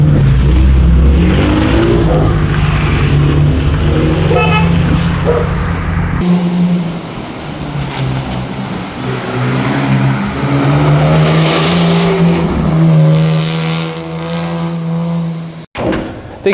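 A rally car on a Monte Carlo historic rally stage: a loud, close engine drone that rises and falls through revs and gear changes, with a brief sharp break near the end.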